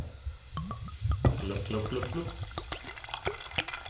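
Everclear is poured from a bottle into a paint bucket drink, giving a close, gurgling splash with irregular bubbling glugs, and voices talk over it.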